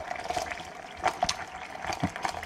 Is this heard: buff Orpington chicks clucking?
no